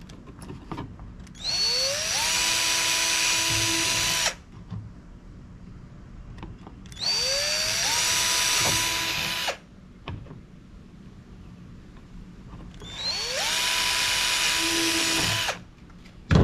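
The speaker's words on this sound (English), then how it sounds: "I'm just going to go ahead and take the time and drill them out now." A power drill whines through three separate bursts of a few seconds each, with quiet pauses between, close and steady while boring holes on a Sea-Doo for a fish finder installation.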